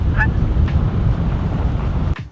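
Ducks call outdoors, with a single short honking quack early on. Loud, rumbling wind buffets the microphone throughout and largely buries the birds.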